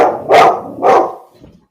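A dog barks twice, loud and close, then lets out a short, softer yelp as the barking fades, with no talk over it.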